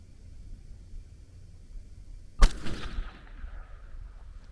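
A single suppressed rifle shot from a 22 DPC fitted with a Sandman L suppressor cracks sharply against quiet background, then rings and decays over about a second, with a faint distant echo following.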